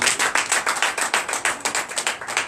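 A church congregation at a Sunday service applauds, many hands clapping in a brisk, fairly regular rhythm, loud and close.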